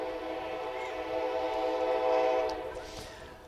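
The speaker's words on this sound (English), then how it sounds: "A freight train heading back to Murfreesboro" A freight train's horn blares in a long, sustained chord, swelling and then easing as the train passes near a high school baseball game, with steady rail rumble beneath.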